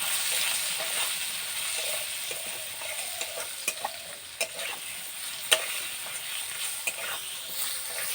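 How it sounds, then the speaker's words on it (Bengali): Potatoes and cauliflower frying with salt and turmeric, a steady close hiss of oil under intermittent scraping stirs and occasional sharp spatula knocks against the pan, without speech. "নুন, হলুদ, নুন হলুদ দিয়ে এটা ভালো করে ভেজে নেব"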